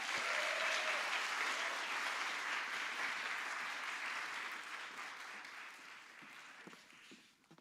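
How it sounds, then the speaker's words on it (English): Audience applause for dancers after a dance showcase at a TEDx event, a dense wash of clapping that starts loud and gradually thins out toward the end. "Please give these dancers some love and a huge round of applause."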